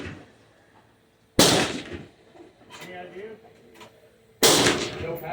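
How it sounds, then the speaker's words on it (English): Two loud, sharp rifle reports ring out about three seconds apart during target shooting at 200 yards, with faint talk and quiet handling sounds between the shots. "Let me see if I could do 1 control, well-aimed shot in the T-zone at 200 yards."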